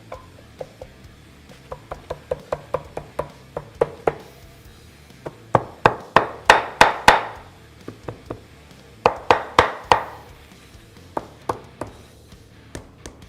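Sharp taps knock an S&S cam cover with gasket into place on a Harley XL Sportster engine, a long series of close hits in uneven bursts, some quick and loud, others spaced and softer.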